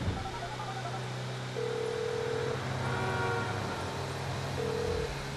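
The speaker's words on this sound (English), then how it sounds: "I gotta make a call." Touch-tone beeps from a cell phone being dialed in Grand Theft Auto V, several short tones spaced out over a steady hum of background game ambience.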